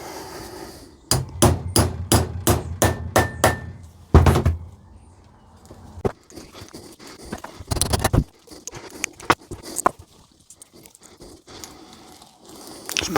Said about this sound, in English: I'm just going to make the holes for the rivets now.